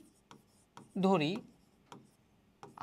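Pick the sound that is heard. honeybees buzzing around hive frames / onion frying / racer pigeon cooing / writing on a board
writing on a board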